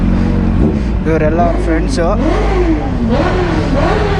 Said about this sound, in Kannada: ಇದು ಉಪೇಂದ್ರ ಸರ್ದು ಮಗದ ಬೈಕ್ ನೋಡ್ರಿ